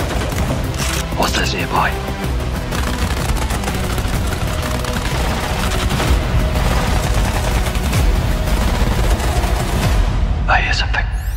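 Sustained suppressive gunfire rattles loudly and continuously in a video game trailer battle, with dense bursts and booming echoes while a voice briefly speaks over the shooting.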